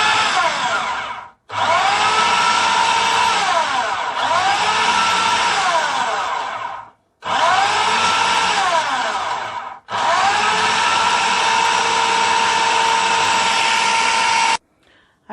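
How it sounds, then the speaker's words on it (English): A blender roughly blending a pepper mix for stew runs loud and steady in three long bursts separated by short pauses, with a whirring motor tone that shifts as the contents churn. "So blend the pepper mix."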